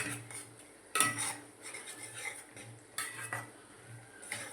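A spoon stirs cashew paneer curry in a metal pan, scraping and clinking against the sides in irregular strokes with a few louder knocks, close up and without talk.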